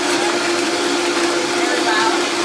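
A kitchen blender whirs steadily and loudly throughout, blending pumpkin pie chia pudding, with a constant motor hum and no voices over it.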